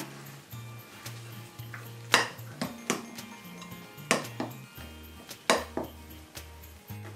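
Vattayappam batter with ground cardamom is mixed in a bowl, producing a series of sharp utensil knocks and clinks against the vessel at an uneven rhythm, close by and unaccompanied by speech.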